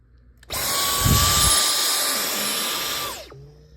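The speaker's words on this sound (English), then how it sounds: "the dusting attachment, which is good for a Dyson cordless vacuum" A Dyson cordless vacuum with a dusting brush attachment runs over a table, switching on abruptly and holding a steady loud whine for under three seconds before cutting off.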